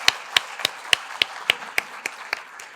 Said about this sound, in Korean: 네, 큰 박수 갈까요?